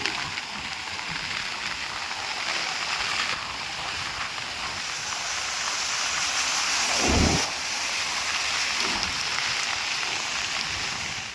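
Cyclone flood water rushing over the Chandravaku bridge in Andhra Pradesh, a steady loud broadband roar of flowing water throughout, with a brief low thump near the middle.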